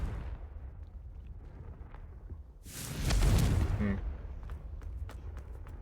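A single heavy blast from the Confringo fire spell in Hogwarts Legacy booms out for about a second after a quiet stretch, then fades into a low ambient rumble.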